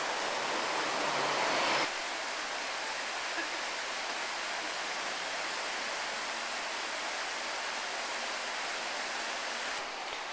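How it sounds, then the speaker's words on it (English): A continuous rushing wash of a running creek near Ketchikan, Alaska, steady and broadband, with a louder surge of noise in the first two seconds. "you can actually hear the sound of the running creek"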